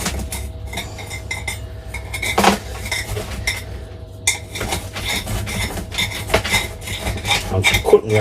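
A metal spatula scrapes and rasps around the root ball of an Itoigawa juniper bonsai during spring repotting, giving close, uneven grating strokes with occasional soft knocks and clinks.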